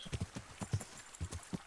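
Horse hooves clip-clop in an uneven walking rhythm on hard ground in Kingdom Come Deliverance, with about a dozen close, moderately quiet hoof strikes in small clusters.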